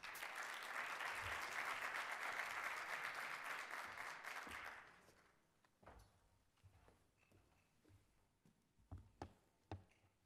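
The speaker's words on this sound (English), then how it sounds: "So please, a big applause for Subsecretary Balmaceda." An audience at an infrastructure panel breaks into loud, dense applause for about five seconds, which then fades to scattered footsteps and small knocks in a quieter room.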